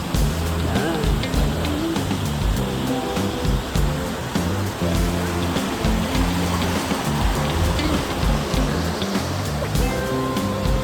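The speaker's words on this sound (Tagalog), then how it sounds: "May waterfall din dyan, oh." A waterfall roars as a dense, constant wash of rushing water, loud and unbroken, heard in the mountains near Kiangan, Ifugao.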